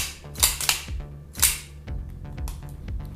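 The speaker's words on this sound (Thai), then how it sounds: "เพื่อปลอดภัยนะครับปลดแมกกาซีน ดึงสไลด์" A handgun has its magazine dropped and its slide racked, giving a string of sharp metallic clacks and snaps close by, several quick hits spaced unevenly across a few seconds.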